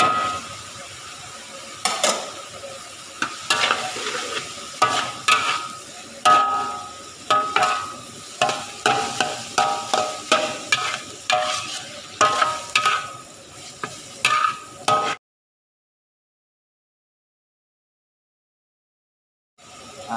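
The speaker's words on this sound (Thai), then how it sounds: "หมูยอครับผม ใส่ลงไปผัดครับผม" Pieces of Vietnamese pork sausage (moo yor) stir-fried in a hot pan for a Yasothon-style rice noodle soup give a close, steady sizzle broken by rhythmic scraping stirs, ending abruptly in silence near the end.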